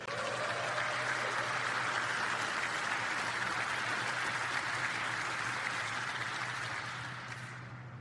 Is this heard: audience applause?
yes